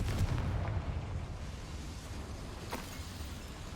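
A Confringo fire spell from Hogwarts Legacy bursts in a dense, steady explosive rumble with a sharp crack partway through, moderately loud and sustained throughout.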